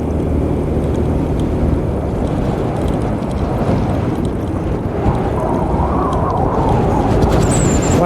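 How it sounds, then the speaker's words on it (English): Strong wind blows through the woods beside an old homestead, a loud, steady broadband roar with rushing gusts and buffeting against the microphone, continuous throughout with no talking. "Wow, that wind's getting strong."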